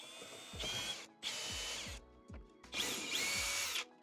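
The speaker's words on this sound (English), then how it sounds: "So I just drilled a pilot hole with this 1/8 inch drill bit." A power drill with a 1/8 inch bit drills a pilot hole on a BMW X5 while installing air helper bags, whirring in three bursts separated by short pauses, motor pitch rising and falling, loud and close with no talking.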